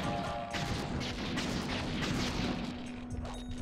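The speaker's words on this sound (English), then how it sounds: "Now you taste the electrical power of my shock pistol." Shock pistol firing in Sly 3, a dense crackling barrage of repeated zaps and impacts with a steady electric hum, loud and continuous for a few seconds.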